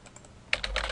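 Quick keystrokes clatter on a computer keyboard, a few soft taps followed by a faster burst of clicks.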